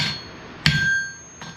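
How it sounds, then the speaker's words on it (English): Two sharp metallic hammer strikes on a flatter laid over a knife blade on an anvil while forging, the first loud with a long ringing tone, the second softer about a second later. "take another hammer and hit this, so between this and the face of the anvil, it flattens out the metal"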